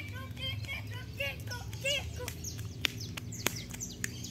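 Parakeets chirping in a large tree, a busy scatter of short tweets and calls near and far over a low steady background hum, with a few sharp clicks.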